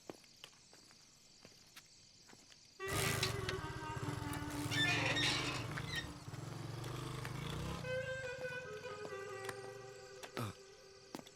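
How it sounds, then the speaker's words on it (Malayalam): After a quiet start, a motorcycle engine suddenly fires up and runs with a loud, low throb for several seconds, then eases to a lighter hum as the bike moves off. "ബൈക്ക് ഞാനൊന്ന് എടുക്കുവാണേ"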